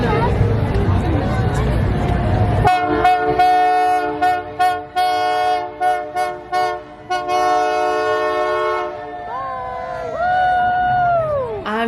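Canadian Pacific Holiday Train rolling in at a winter stop, a crowd murmuring, then a loud, close horn sounding in repeated long and short blasts, followed by squealing brakes as it slows.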